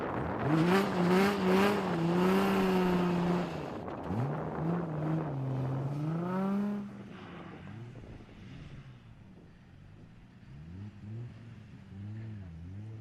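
A drift car at a British Drift Championships round at Driftland does a burnout, its engine revving hard in high, rising and falling wails before easing off, while commentary runs over it.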